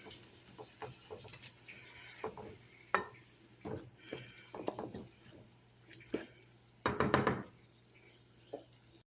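Ground hamburger meat browning in a pan, heard as irregular scraping and knocking as it is stirred, with soft sizzling underneath and no one speaking.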